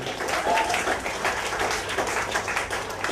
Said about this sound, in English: please welcome the round of applause